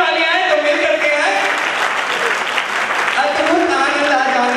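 A poetry gathering audience bursts into sustained applause, dense clapping filling the hall throughout, with a voice faintly mixed in.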